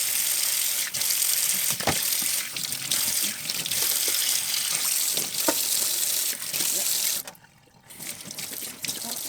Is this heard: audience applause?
no